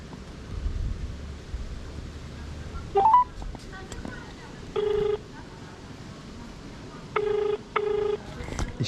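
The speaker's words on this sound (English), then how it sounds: "It should be ringing inside." Ringback tone from a mobile phone calling a hotel in Goa, India: several evenly spaced electronic ring bursts sounding through the handset over quiet outdoor background noise.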